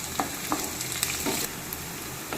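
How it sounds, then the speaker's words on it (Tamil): Garlic fries in oil in a pan for a Tamil dried-fish curry, a continuous close sizzle broken by several distinct scraping stirs of a spoon at irregular intervals, with no voices. "பூண்டு வந்து எண்ணெயில் நல்லா வதங்கி வரட்டும்"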